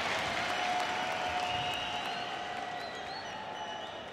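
Large esports arena crowd at a Counter-Strike major semi-final, a steady roar of cheering and applause that stays loud and dense throughout with no individual voices standing out.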